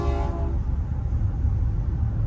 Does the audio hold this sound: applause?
no